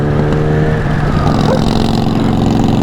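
A motorcycle engine revs hard and loud after the rider misses a gear, the steady mid-pitched roar holding close and continuous for about three seconds with no talk over it.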